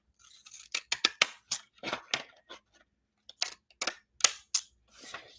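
Fancy scissors snip through paper in a quick series of sharp, crisp cuts, loud and close, bunched in bursts with a short pause midway and no talk.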